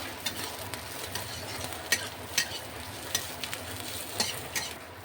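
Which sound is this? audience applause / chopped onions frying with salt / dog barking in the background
chopped onions frying with salt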